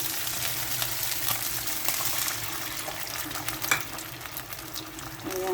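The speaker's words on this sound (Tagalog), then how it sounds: "Nilagay na natin yung ating abalon guys. And then, lagay natin yung kanyang sauce." Abalone and its sauce hit a hot pan with baby pechay, giving a steady, busy sizzle and bubbling that holds throughout, with one brief louder spatter near the middle.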